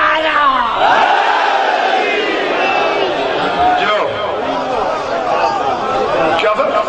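A large crowd shouts slogans in unison at a religious gathering, loud and close, with overlapping voices swelling in repeated bursts and general chatter between them.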